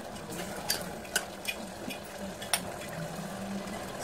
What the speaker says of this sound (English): Stir continuously